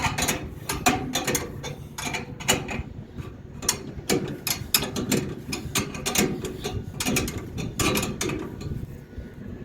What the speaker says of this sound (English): This is going to drive the motor down. And tighten our belt.